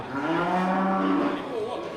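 A bull at a village livestock sale lets out one long, deep, sustained moo, close and loud, that trails off toward the end.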